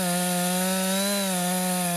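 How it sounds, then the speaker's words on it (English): A chainsaw felling forest trees on a heath runs at a steady, sustained high drone, its strong harmonic whine holding an even pitch close by throughout. "the forest on the heath must be felled with a chainsaw."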